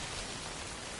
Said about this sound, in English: find shelter from the rain